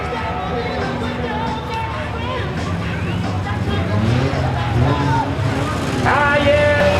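A smash-up demolition derby car driven into the ring, its engine a low continuous rumble that grows slightly louder, set against crowd babble and an announcer's voice over a public address.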